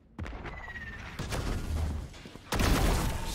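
Gunfire in the video game Valorant, several loud close bursts of shots and booming impacts in quick succession, the last burst the heaviest.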